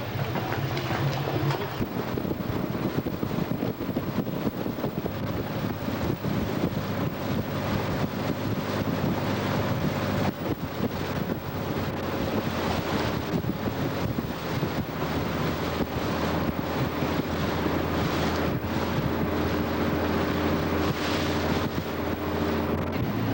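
Riding a water taxi in Venice, steady wind buffets the microphone over the constant rush of waves and the boat's churning, loud and continuous throughout with no speech.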